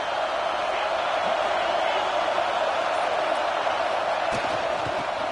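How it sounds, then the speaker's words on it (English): Steady, dense roar of a football stadium crowd at a Tennessee vs. Florida game, a loud wall of cheering that holds evenly for the whole stretch without breaks. "this crowd coming to life here, trying to help the defense get a stop"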